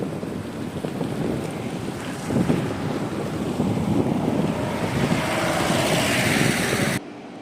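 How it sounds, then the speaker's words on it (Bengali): Wind roars over the microphone while a motorbike rides through heavy fog near Siliguri, a constant loud rushing that builds slightly partway through and cuts off abruptly near the end. "এই মধ্যে আমরা বাইক চালিয়ে ফিরছি।"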